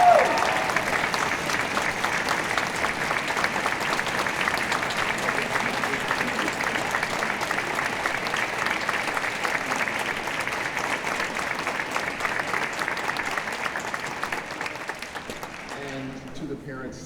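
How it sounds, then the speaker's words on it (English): Sustained applause from a concert audience at a high school honor band event at CSU Fullerton, a steady dense clapping that holds for around fifteen seconds before tapering off at the end. "please stand so we can give you a big round of applause"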